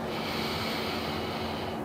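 A single long, steady breath pushed out through the nose or mouth during a pelvic floor exercise, close and breathy, with no talking over it.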